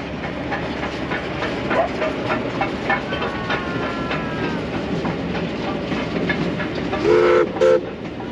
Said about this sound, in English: we should get a view of the train coming towards us at least